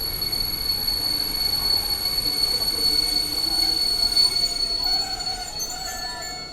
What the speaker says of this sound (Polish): A to Intercity Wybrzeże, które kończy bieg.